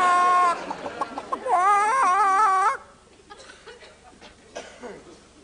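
A voice imitates a chicken, giving a loud run of warbling, rising-and-falling clucks and squawks that breaks off suddenly, leaving quieter studio sounds and faint murmuring behind.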